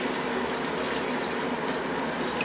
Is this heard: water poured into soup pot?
yes